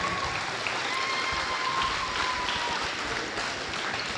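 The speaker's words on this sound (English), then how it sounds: "One more round of applause for Taya." Sustained crowd applause fills a high school gym at a North Dakota girls' basketball senior night honoring a senior player, a dense, steady wash of clapping with a faint tone running through it.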